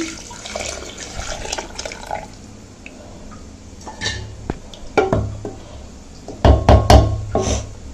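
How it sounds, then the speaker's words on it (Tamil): Water poured into a pot of mashed tomato for tomato masiyal in a home kitchen: soft trickling and splashing with light clinks and knocks of utensils against the vessel, growing louder toward the end. "நம்ம எடுத்து வச்சுருந்தோம்ல அந்த தண்ணியை இதில் குத்தி"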